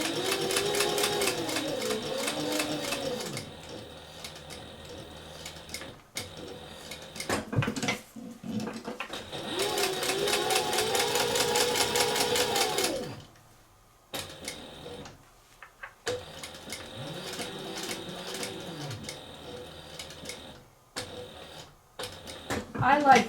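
A sewing machine stitching a cork envelope wallet runs in several bursts of rapid mechanical ticking, each lasting a few seconds and separated by pauses, while someone talks over and between the runs.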